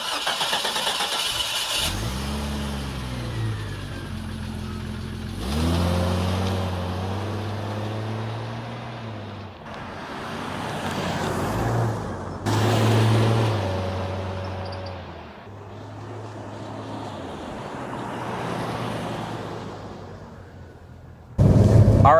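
A Jeep Cherokee XJ engine cranks and catches, then revs and pulls away in a series of gear changes, the mid-pitched engine note rising and falling close by with no talk.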